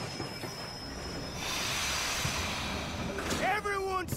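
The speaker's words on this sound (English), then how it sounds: "Train's coming in." A steam train pulling into a station in Red Dead Redemption 2, a rising hiss and rumble building to high metallic wheel squeals near the end as the cars slow, with voices speaking over it.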